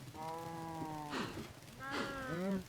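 Cattle in the video game Wood Age let out two long, harmonic moos on a farm, one after the other, fairly close and clear with no talk over them.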